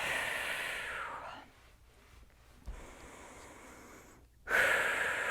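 Slow, deep breathing during a Vinyasa yoga session, close to the microphone. A long airy exhale fades into quiet, then a gentler breath follows and a sharp, loud inhale comes at the end.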